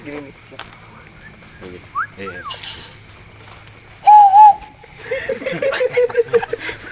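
A person whistles at night in the Alas Purwo forest, with short warbling whistled phrases coming and going amid insects and quiet chatter. A louder trilling whistle and later a wavering one stand out over murmuring voices.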